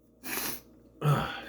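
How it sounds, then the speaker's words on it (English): Two sharp human sneezes, close and loud, the first a breathy burst and the second a stronger explosive one after a short pause. "The sneeze will end that part of it."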